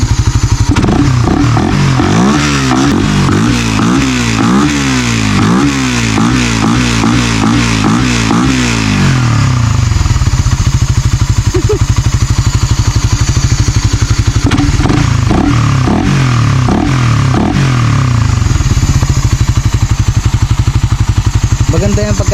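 A Suzuki Raider 150 fuel-injected motorcycle engine with a ram air mushroom filter revs hard in rhythmic bursts for several seconds, then settles to a rough, clattering idle with a few more short throttle blips.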